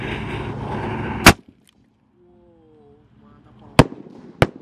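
A Roman candle firecracker of the bazooka type fires three sharp, loud bangs outdoors, one early and two close together at the end, with someone speaking before the first shot.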